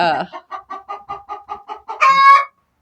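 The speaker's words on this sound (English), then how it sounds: "So excuse the cackling." A hen cackles just after laying an egg, a run of about ten evenly spaced, close, loud clucks that ends in a longer drawn-out squawk.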